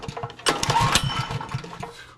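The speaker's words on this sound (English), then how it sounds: "we'll fire this thing up and see what kind of running we got going" A Honda EB3800X portable generator engine, its choke just set, catches briefly with a short burst of rough, uneven putter that quickly fades, heard up close for about two seconds.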